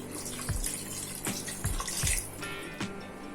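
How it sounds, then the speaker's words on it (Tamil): Water from a half glass is poured into a pot of chicken for pot dum biryani, giving a soft splashing trickle with a few brief louder gushes. "1/2 கிளாஸ் வாட்டர் மட்டும் ஆட் பண்ணிக்கலாம்."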